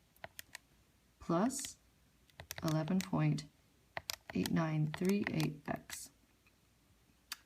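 Quick button presses on a TI-84 graphing calculator, a run of sharp, close clicks scattered between and under a person talking.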